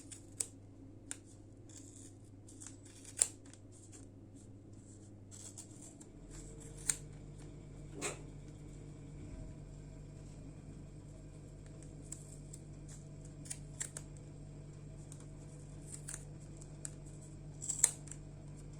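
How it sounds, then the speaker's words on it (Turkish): Scissors snipping yarn wound on a plastic pom-pom maker: sparse, faint sharp clicks and snips scattered over a steady low background hum, quiet and close. "makasımızı plastiğimizin arasından sokarak ipimizi kesiyoruz"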